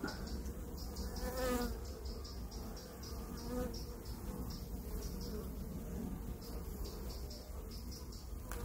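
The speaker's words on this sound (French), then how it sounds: "je vois des abeilles hyper calmes" Dense, steady buzzing of many honeybees close by at an open hive, a continuous drone with no voices.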